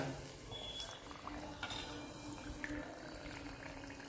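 Adhirasam made from kavuni (black) rice flour frying in oil over a low simmer flame, a steady, close bubbling sizzle that runs throughout with faint utensil clinks and no talk.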